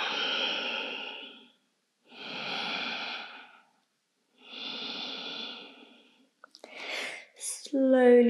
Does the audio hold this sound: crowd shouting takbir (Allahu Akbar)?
no